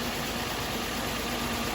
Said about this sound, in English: She's running. Motor sounds a bit rattly.